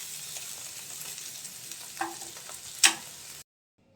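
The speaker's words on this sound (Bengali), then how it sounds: "সবজিটা এর থেকে কড়া করে ভাজবো না" Mixed vegetables of bitter gourd, spiny gourd, potato and long beans frying in a pan, a soft steady sizzle close by with a couple of brief stirring scrapes before it cuts off.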